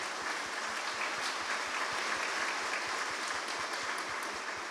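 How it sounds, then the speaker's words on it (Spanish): Members of a community gathered at a medical campaign in Chirilagua clap together in a soft, steady round of applause heard from a distance, with a faint rhythmic thump running underneath. "pido un aplauso de parte de ustedes como comunidad"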